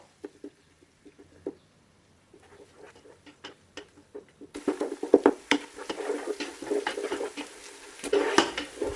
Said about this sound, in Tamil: வெங்காயத்தை மிதமான தீயில நல்ல பொன் முறுவலாக ஆகிற வரைக்கும் வதக்கி எடுத்துக்கணுங்க